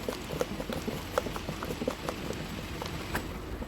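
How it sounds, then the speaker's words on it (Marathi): Vada pav batter beaten by hand for a few minutes, a rapid run of light wet taps and clicks in a steady rhythm, close and moderately quiet, with no talking. "आता हे पीठ आपण चांगलं 2-3 मिनिटं असं फेटून"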